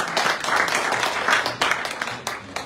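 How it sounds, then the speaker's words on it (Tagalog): Church congregation applauding together, a dense wash of many hands clapping with a few sharper claps standing out near the end, steady and fairly loud. "Sa pumalakas na palakpak sa ating Diyos."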